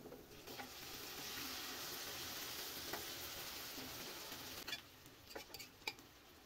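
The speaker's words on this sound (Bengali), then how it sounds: "এখন এই মাংসগুলো ভালোভাবে নাড়াচাড়া করে ভেজে নিব।" Beef pieces fry with browned onions in oil, a broad steady sizzle that eases off near the end, where a few sharp spoon scrapes and clatters against the pot stand out close by.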